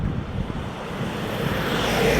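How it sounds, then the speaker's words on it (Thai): Cold wind gusts steadily across the microphone outdoors, a loud continuous rumbling roar that swells slightly toward the end, with no voices. "ตอนนี้ลมหนาวเนาะ ลมหนาวลมเย็นมากนะครับตอนนี้"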